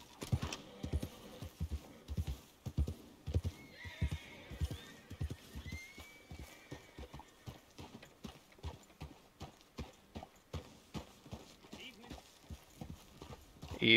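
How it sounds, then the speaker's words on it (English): Steady clip-clop of horse hooves at a walking pace, with a faint whinny from a wild horse partway through, set against a low ambient background, in the game Red Dead Redemption 2 Online. "there's some of those wild horses"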